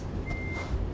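A single reversing beep from a truck in Euro Truck Simulator 2 as it backs slowly toward a cargo trailer, sounding over a steady low engine rumble.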